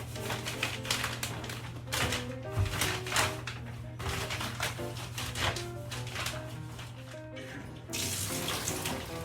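Water from a bathtub tap runs and splashes as a shower curtain liner is rinsed in the tub, a steady close stream broken by sloshing and dripping, with a brief louder gush near the end.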